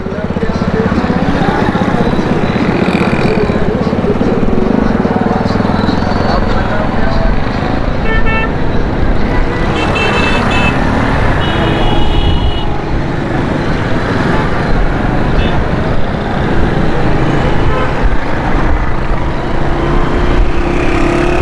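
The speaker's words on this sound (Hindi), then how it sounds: "ट्रैफिक बहुत ज़्यादा जाम है" Heavy jammed traffic on Karachi's Malir Expressway: a steady dense rumble of engines and motorcycles with scattered horn toots, heard under someone talking.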